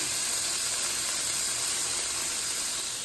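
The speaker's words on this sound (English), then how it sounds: "we got a nice sear on these steaks. I'm just flipping them over" Steady, loud sizzling hiss of steaks searing in a hot pan, continuous and unbroken for the whole stretch, with no voices.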